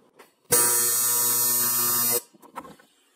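A welding torch lays a single tack weld on clamped square aluminum bar, a loud, steady electric buzz lasting under two seconds, followed by faint clicks and handling noises.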